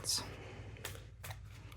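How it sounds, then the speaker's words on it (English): Tarot deck shuffled by hand during a card reading, a few soft papery riffling bursts spread over a couple of seconds, close and quiet over a low steady hum. "Just going to shuffle like this in order to refresh the energy of the deck from previous readings."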